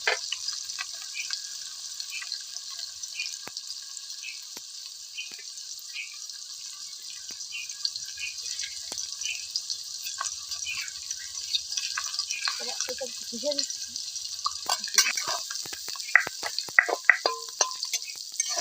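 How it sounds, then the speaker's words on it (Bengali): Raw onions frying in hot oil with whole cardamom and cinnamon at an outdoor winter picnic, a steady soft sizzle that grows busier with crackles and spatters as the onions cook. "এবার আমরা কেটে রাখা পেঁয়াজগুলো দিয়ে দেবো। তো পেঁয়াজগুলো দিয়ে দিচ্ছি। কাঁচা পেঁয়াজ দিয়ে দিচ্ছি।"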